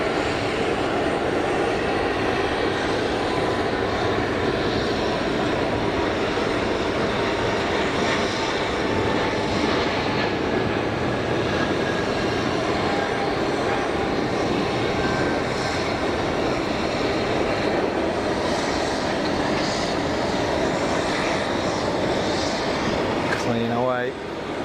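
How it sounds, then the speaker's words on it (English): A Swiss Airbus A220-300 jet roars at Geneva Airport, a loud, continuous engine rumble with a thin whine that holds steady throughout. "Chasing the TAP Neo out to Lisbon is this A220 300 from Swiss."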